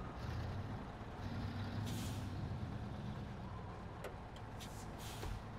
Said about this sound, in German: Also das ist ein Offroad-LKW.